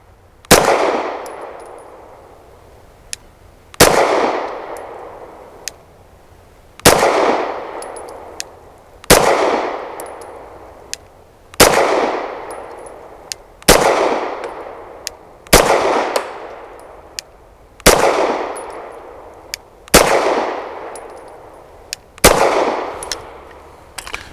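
Ten air rifle shots from a Gamo K100 X Trim firing Sterling pellets, each a sharp loud crack with a quick ringing decay, spaced about two seconds apart in a steady rhythm, with no talking.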